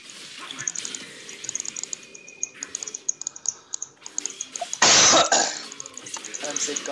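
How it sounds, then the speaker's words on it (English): A sick gamer's coughs during a League of Legends match, a few short, harsh bursts close to the mic, the loudest near the middle, over steady keyboard clicking and mouse taps with light talk. "So I'm sorry for the random coughs."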